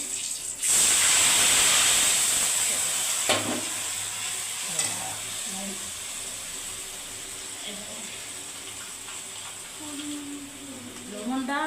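Bay leaves dropped into hot mustard oil for a fish curry set off a sharp, loud sizzle that settles into a steady frying hiss, with stirring clatter and faint talk later on.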